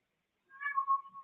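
A cat meows twice in quick succession, clear and close, with a drawn-out wavering cry and no talk over it.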